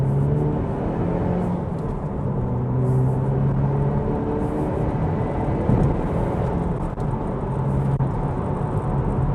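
A 2012 Opel Astra OPC with a 280-horsepower 2-liter turbo engine accelerates, heard from inside the car as a steady, loud, low engine drone and rumble that builds as the car gathers speed.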